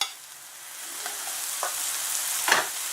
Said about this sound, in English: so we've got our red pepper, And our bamboo shoots, stir frying for